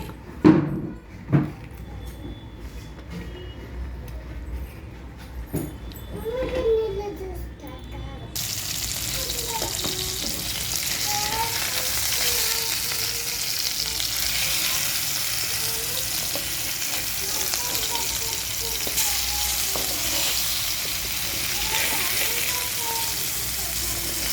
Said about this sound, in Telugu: మెల్లగా ఇటు తిప్పుతూ తక్కువ నూనెతో వేసుకోవాలి